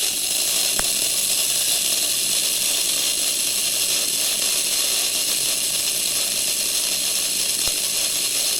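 Aurora Can-Am Shadow slot car with a non-magnet traction, self-lubricating chassis running on a track, a continuous loud buzzing whir with a rattling mechanical edge, steady throughout with two faint clicks.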